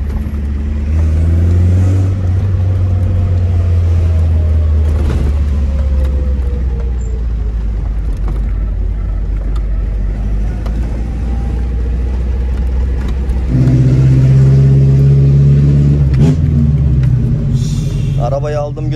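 Loud, close exhaust drone from an LPG-fuelled Tofaş car, revving and settling in two long pulls with a deep rumbling tone; someone talks over it at times.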